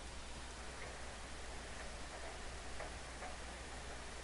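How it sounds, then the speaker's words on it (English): Steady rain falling in the video game Persona 4, an even, continuous hiss with faint scattered drips, alone at moderate level throughout. "Rain doesn't seem to be letting up this morning."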